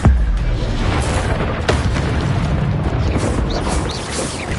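An Incendio fire spell goes off in the Hogwarts Legacy video game, a dense booming, crackling blast that fills the whole clip with sustained rumbling and scattered sharp impacts, loud and close.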